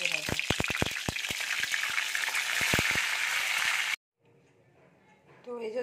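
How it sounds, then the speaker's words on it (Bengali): Stuffed pointed gourds fry in hot oil over a medium gas flame, a loud, close, dense sizzle with sharp clicks of utensils against the pan, then a sudden cut to a much quieter background with faint sounds. "গ্যাসের ফ্লেমটা মিডিয়াম রেখে একটু সময় ধরে ভেজে নেব।"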